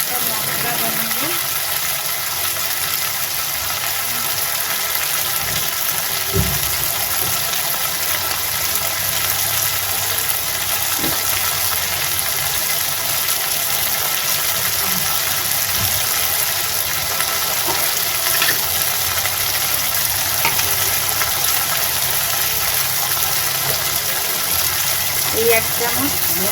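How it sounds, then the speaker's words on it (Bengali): Capsicum and carrot frying in a pan on a home kitchen stove, a steady hiss of sizzling oil that runs continuously for nearly half a minute with a few faint clinks. "গাজর করতেছি, ক্যাপসিকামটা ভালো করে ভেজে নিই।"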